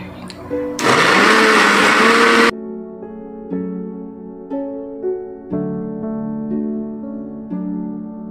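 An electric blender grinds onions into a paste in a steady, loud whir for about two seconds, then cuts off, leaving a quieter stretch of background music.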